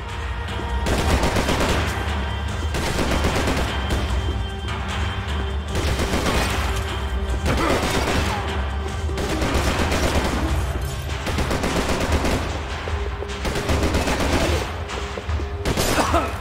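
Sustained gunfire in the video game Max Payne 3, rapid overlapping shots and bursts running continuously and loud throughout, with no talk.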